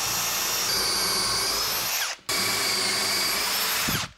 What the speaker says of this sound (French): je préfère mettre des trous de vis dans mon martyr